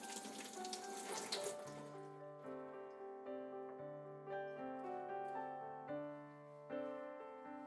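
Water splashes briefly into an old, ten-year-old pressure cooker holding sweet potatoes, then gives way to soft, sustained musical tones.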